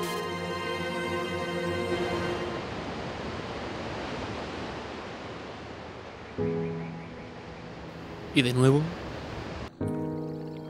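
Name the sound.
ocean waves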